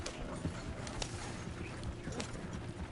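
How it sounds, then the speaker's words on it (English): In a video game, a horse pulls a trader wagon, its hooves clip-clopping in a continuous, fairly faint rhythm alongside soft rattling of the wagon. "This horse always bangs this thing off these rails."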